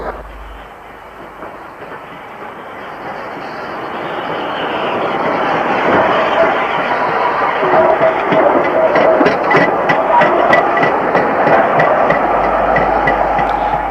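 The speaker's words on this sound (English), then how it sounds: "A 264 tank arrives at the main platform used for trains to Ruthin." A GWR 64xx steam tank locomotive pulls into the main platform of a 1957 station with its carriages, a rolling rumble swelling louder as it nears, with rhythmic clickety-clack of wheels over rail joints and no talk.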